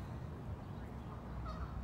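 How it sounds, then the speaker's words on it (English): Outdoor ducks with their new ducklings call faintly in the distance, soft honking notes barely rising above a steady low rumble of background noise. "All the ducks and their new ducklings."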